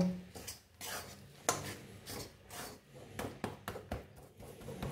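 A spoon scrapes and clinks against a pan as a spoonful of gram flour is mixed into a cooking mixture for binding, in irregular close strokes with short pauses between them, with no talk.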